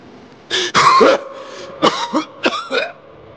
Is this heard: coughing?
yes